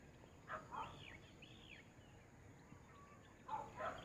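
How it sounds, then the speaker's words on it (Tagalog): Faint birds call back and forth in quiet countryside, a few short chirps and whistles near the start and again at the end over a soft outdoor hush. "Nakaka-relax talaga yung mga huni ng ibon, nagsasagutan, diba?"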